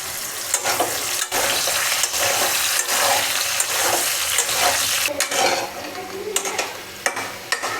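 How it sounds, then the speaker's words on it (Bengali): Potatoes sizzle and fry steadily in a pan as the first step of a rui fish curry, a dense continuous hiss punctuated by occasional stirring scrapes, close and loud with no talking. "আলুটা ভাজা হয়ে গেছে গা, তখন আলুটা নামাই লাই"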